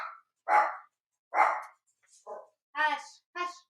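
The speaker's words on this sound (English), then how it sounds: "I don't know if you guys can hear my dogs," Dogs indoors bark in several loud, separate barks and yips over a few seconds, close and excited, with no talking between them.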